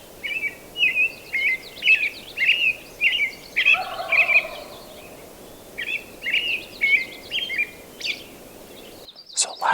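Bird calls on a turkey hunt in the mountain aspen terrain of western Colorado: repeated bursts of calling in a steady rhythm, moderately near, with a lower gobble-like rattle midway and no talking.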